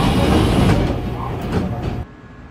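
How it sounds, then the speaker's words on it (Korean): A Seoul Metro Line 1 Dongincheon express train runs between Yongsan and Dongincheon with a loud, dense rumble that suddenly drops to a quieter hum after about two seconds. "열차 곧 출발합니다."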